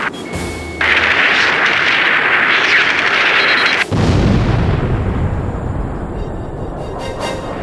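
Heavy gunfire and explosions rage through an Ace Combat 5 video game battle, a loud, dense broadband roar with a sharp cut just before midway, then a second sustained barrage that gradually thins out.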